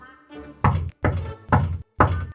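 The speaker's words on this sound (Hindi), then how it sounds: "दरवाजा खटखटाता है" Four heavy knocks on a wooden door, evenly spaced about half a second apart, each a loud, deep thud, preceded by a few softer taps, close up with no speech.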